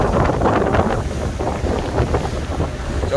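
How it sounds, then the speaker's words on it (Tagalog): Strong sea wind buffets the microphone on the open deck of a Starlight RoRo ferry sailing from Tangay Port to Caticlan on a clear, hot day, a loud continuous rumbling roar with no talk. "Lakas ng hangin."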